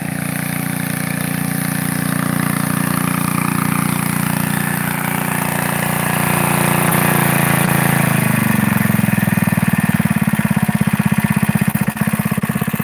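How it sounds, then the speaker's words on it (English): A small engine on a trash pump moving pond water, running at low speed around a third of its maximum, with a loud, steady close-up chug that slows into a lower, rhythmic throb. "that engine's not working hard at all. That engine's running about 1/3 of its max speed there"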